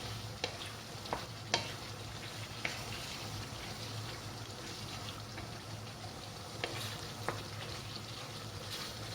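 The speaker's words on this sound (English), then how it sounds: "We just need to mix all of this thoroughly." Caponata being stirred and mixed in a pan with oil, a steady low sizzle of frying under scattered clicks and scrapes of a utensil against the pan, fairly quiet and continuous.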